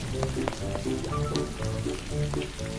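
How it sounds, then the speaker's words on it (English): Rain patters steadily on a surface, a dense sizzling hiss with low tonal sounds pulsing underneath at a regular rhythm. "it begins to rain."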